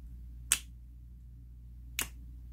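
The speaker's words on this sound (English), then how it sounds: "you can snap your fingers, and it sounds exactly the same." Two crisp finger snaps, close and clean, about a second and a half apart, over a faint low hum in an otherwise quiet room.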